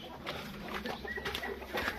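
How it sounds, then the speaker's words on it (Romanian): Wyandotte hens clucking in a backyard flock, a few soft, short clucks and murmurs scattered over two seconds, fairly close but quiet. "Una din găinile de viandot, cealaltă este acolo."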